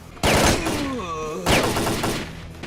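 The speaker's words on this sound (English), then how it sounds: "It's actually one of the more exciting firefights we've had so far." A firefight in S.T.A.L.K.E.R.: Call of Pripyat breaks out as two loud, close bursts of gunfire, each trailing into a ringing decay.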